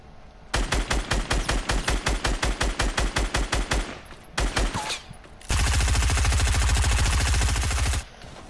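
Rapid automatic gunfire in the video game Fortnite, loud and close: a long string of evenly spaced shots, a short pause and burst, then a dense sustained stream of fire that stops abruptly.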